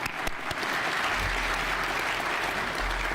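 Audience applause fills a graduation ceremony for a Florida law school, a steady, dense wash of clapping that holds evenly from start to finish with no voices on top.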